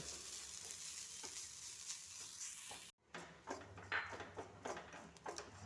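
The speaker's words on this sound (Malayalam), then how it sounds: "തേങ്ങ അതുപോലെ വറുത്തെടുക്കാം" Grated coconut fries in a pan with a steady close sizzle that cuts out briefly midway, then returns with stirring scrapes and sputters over the frying.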